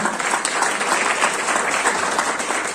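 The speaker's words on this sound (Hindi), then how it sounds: "सभी लोग तालियां बजाएं।" A crowd claps steadily, a dense and even round of applause without voices.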